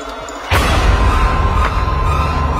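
A sudden loud thud hits sharply, followed by a dense, booming rumble with another faint impact, resembling a heavy kick striking like a gunshot.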